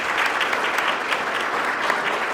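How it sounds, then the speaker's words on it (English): A crowd applauding a singer after the national anthem at a Top Cop awards ceremony, steady dense clapping from many hands at a moderate distance, with no voices over it. "Can we give her another round of applause?"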